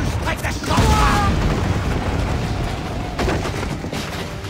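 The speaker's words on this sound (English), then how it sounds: "Hit her from a safe range with our mortars!" Ship mortars firing in Assassin's Creed IV during a sea battle to liberate a fort, heavy booms rolling under continuous loud ocean and battle din, with shouted voices in the mix.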